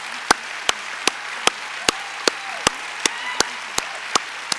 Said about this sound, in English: please join with me in applauding her achievements and this honour